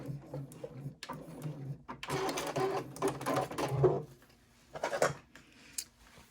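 A sewing machine runs in bursts as it back stitches the end of a seam on a triangle pouch, close and fairly quiet, with short pauses between runs of stitching and no talk.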